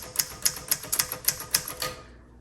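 Keys on a 1960 Royal Diana vintage manual typewriter strike in a steady, close run of about eight crisp clacks, evenly spaced and fading into quiet at the end.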